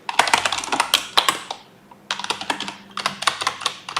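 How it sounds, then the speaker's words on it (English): Rapid typing on a computer keyboard, close and crisp, with dense bursts of clicking keys separated by a brief pause, no talk. "so now let's start doing some typing"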